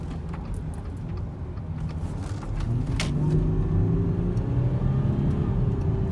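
A 2014 Audi Q7 TDI accelerates, a steady low engine drone that grows louder and deepens as it rises in pitch, heard from inside the cabin with road noise.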